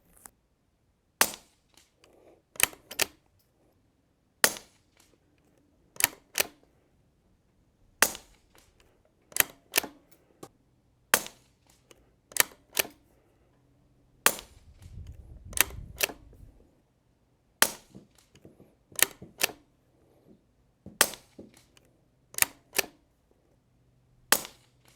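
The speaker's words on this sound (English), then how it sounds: "That's what 10 rounds looks like out of the Anschutz 1727F with the KGM suppressor" An Anschutz 1727F rimfire rifle with a KGM suppressor, firing Eley Ultra Gen 2 ammunition, gives muffled sharp cracks at a steady pace, many paired with quick metallic clicks of the ball-bearing bolt action, with quiet gaps between and no talking.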